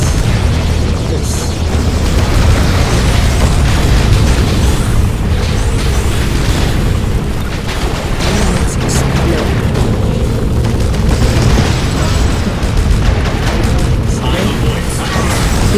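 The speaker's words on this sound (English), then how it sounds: "The fast attack aircraft for Novos, it uses anti-matter shots which stick to the target and explode" Anti-matter shots from a Novus fast attack aircraft in the game Universe at War: Earth Assault stick to targets and explode. Dense, continuous booming blasts and crashes pile up in a loud, steady barrage.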